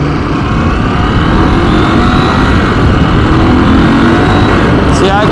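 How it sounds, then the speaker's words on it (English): Loud, steady motorcycle exhaust with the dB killer removed, roaring continuously while riding, with heavy wind buffeting throughout. "See, I can hear an exhaust difference right there"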